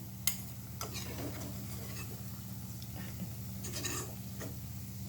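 Whole-wheat biscuits cooking slowly on a low flame in a pan give a soft, steady low hum with a faint continuous sizzle, broken by a few light clinks and scrapes of utensils.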